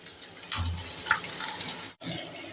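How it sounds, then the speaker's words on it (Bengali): Onion frying gently in a pan over a low flame gives a soft, steady sizzle with a few faint clinks and scrapes, briefly cutting out near the end, with no talking. "পেঁয়াজটাকে খুব লাল করে ভাজবো না, পেঁয়াজটা একটু নরম নরম হবে, সেইভাবেই কিন্তু ভাজাটা হবে।"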